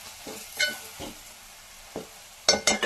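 Bitter gourd and fresh coconut fry in a pan, giving a soft steady sizzle broken by several scraping stirs, with a louder burst of stirring near the end and no talking.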